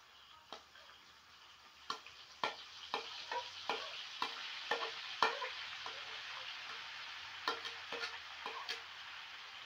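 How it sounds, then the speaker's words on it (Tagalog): Onions, garlic and chili peppers frying in a pan while being stirred: a soft steady sizzle under a series of sharp spoon clicks and scrapes against the pan, irregular and close. "haluin mo lang ng haluin para mapula-pula sila at pantay ang kanilang pagluluto"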